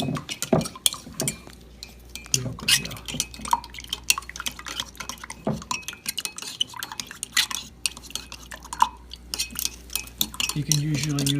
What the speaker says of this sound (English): Then we're going to stir that real good.